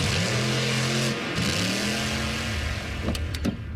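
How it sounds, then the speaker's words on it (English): A monster truck engine revs at a rally, a loud mid-pitched roar that rises and falls in a couple of pulls, close and continuous with sharp clicks near the end. "You can even stream it at a monster truck rally."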